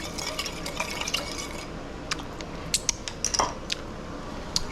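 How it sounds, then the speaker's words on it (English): A spoon stirs a soy and sesame oil sauce with wine and sugar until the sugar dissolves, making clinks and scrapes against a pan for chow mein over a faint steady hiss, with a burst of taps near the end. "You want to just stir this until that sugar is mainly dissolved."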